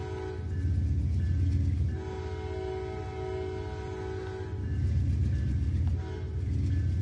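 An Amtrak train passes in the Roblox Rail Sim Universe game. A steady low engine rumble goes on throughout with a sustained horn tone over it, alone and moderately loud.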